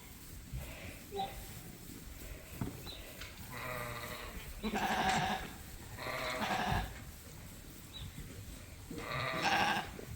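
A ewe bleats repeatedly in a barn, calling her lamb, several loud, quavering calls spaced a second or two apart, with quiet background noise between them.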